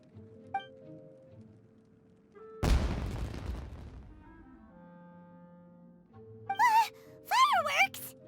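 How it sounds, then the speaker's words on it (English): One loud fireworks-like explosion bursts in the video game Genshin Impact, a sharp boom decaying over about a second amid quiet game ambience, followed by character voices speaking. "Was that an explosion? It sounded like fireworks."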